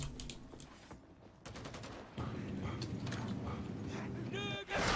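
Machine gunner enemies in the Warhammer 40k Darktide video game firing rapid bursts of gunfire, loud and dense, with a voice talking over much of it.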